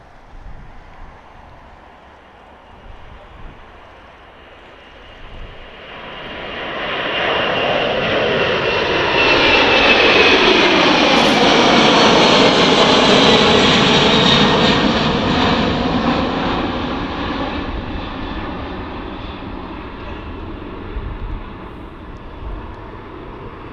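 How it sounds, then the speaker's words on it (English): Boeing 747 jumbo jet engines roar as the aircraft approaches and passes, swelling from a distant rumble to a loud, broad sustained roar around the middle before gradually fading away, with no voices. "there's a couple of Boeing 747 jumbo jets from just a few years ago"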